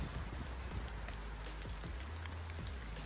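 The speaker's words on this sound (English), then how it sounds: "And it's raining on me," Rain comes down outdoors in a homestead vegetable garden as a dense, even patter of drops striking surfaces close by. It holds steady for about three seconds, with occasional heavier plinks.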